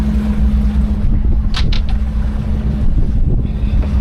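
Small motorboats underway on a river near Bobrinevsky bridge, heading toward Nizhny Novgorod: a steady, close engine drone with a constant low hum and wind noise across the whole span, with no talk.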